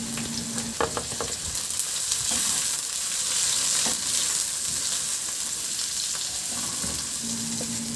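Garlic and onion sauté in hot oil in a pan, giving a steady, close sizzle for the whole stretch, with a few clinks of stirring on top.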